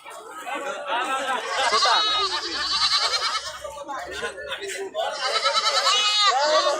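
Goats bleat at a livestock market where small breeds are sold, several wavering calls rising over a busy crowd with people talking nearby throughout.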